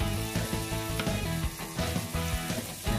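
Steady hissing sizzle of Salisbury steak frying on a hot sizzling plate, continuous and close, with music playing over it.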